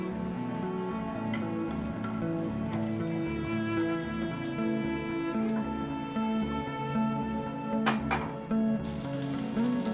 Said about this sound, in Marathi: पॅन मध्ये थोडंसं तेल घालून घ्यायचं. यामध्ये आपण घेतलेली लसूण आणि अद्रक घालून घ्यायचं.